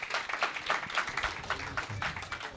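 A conference audience at a hybrid music event gives a round of applause: uneven bursts of clapping mixed with cheering voices, moderately quiet and rising and falling throughout.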